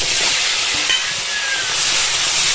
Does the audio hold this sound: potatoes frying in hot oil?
yes